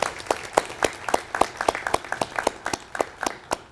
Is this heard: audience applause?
yes